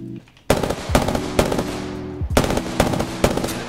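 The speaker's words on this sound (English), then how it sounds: "And I'm missing all my shots right now." A player fires a gun in the battle-royale video game Apex Legends: sharp, loud automatic bursts in quick succession, separated by a short pause, close and with no talking.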